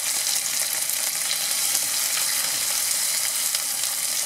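Onions and tomatoes for butter chicken sauté in a hot pan, giving a steady, loud, unbroken sizzle and crackle close by, with no voices.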